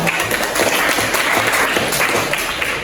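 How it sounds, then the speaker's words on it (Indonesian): An audience claps at a university biology teacher-training session, producing dense, steady applause that holds for the full few seconds at fairly close range. "Oke, berikan aplaus."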